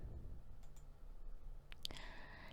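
Faint computer mouse clicks in a quiet room, a few soft ticks with one sharper click near the end.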